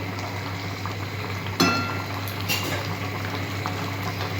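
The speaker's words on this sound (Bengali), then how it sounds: "গ্রেভি ফুটছে।" Gravy for ridge gourd fritter curry bubbles steadily in a pot, a close, continuous simmering hiss with soft pops and one brief louder clatter partway through.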